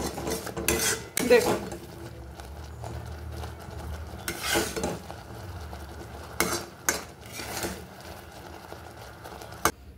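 Grape pudding mixture is scraped from a cooking pan into a bowl, with intermittent metallic clinks and scrapes of a spoon against cookware and a single brief spoken word.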